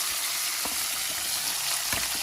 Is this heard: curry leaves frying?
yes